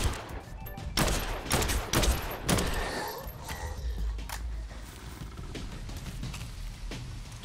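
Short-barreled shotgun fire in a video game comes as a cluster of loud, close blasts early on, followed by mechanical clatter and quieter background game noise.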